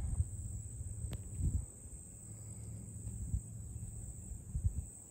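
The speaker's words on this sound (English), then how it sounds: "Crickets have been really bad lately." Crickets chirp in a continuous, high-pitched drone that holds steady throughout, with faint low rustling and knocks underneath.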